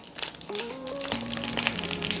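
A plastic packet of Beyblade toy parts being torn open gives continuous close crinkling and rustling under a faint steady tonal hum.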